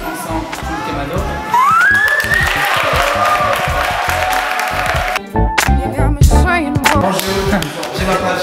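Audience applause for a performer at a soul food event, clapping and crowd noise rising together with music and voices, then breaking up into scattered sounds.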